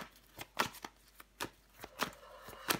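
Tarot cards handled and laid down over the Queen of Wands during a reading, a series of soft, quiet slaps and swishes of card on card at an irregular pace, with no talking.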